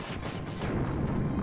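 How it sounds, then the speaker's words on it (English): A dense, rumbling blast from a missile launcher explosion in the video game Mischief Makers, loud and continuous for the short duration with no talk. "Missile launcher explosion!"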